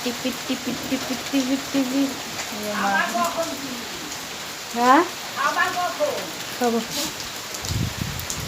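Steady rain with wind in the first spring rain of the season, a constant soft hiss under people talking.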